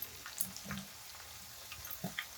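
Garlic fries in oil with a faint, soft sizzle, broken by a few light pops and scrapes of stirring, close but quiet and with no talk.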